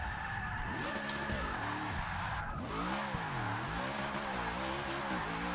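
Tires skidding as a car drifts in the video game Forza Motorsport 6, a continuous squealing slide with the engine revving up and down underneath throughout.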